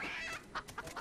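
A chicken clucks in the video game Fable 3, a quiet run of short, choppy clucks over a faint background bed.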